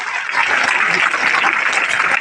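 Children in an audience clap steadily for a DWO officer's speech, a dense, continuous burst of applause at close range that holds at an even level for the whole stretch.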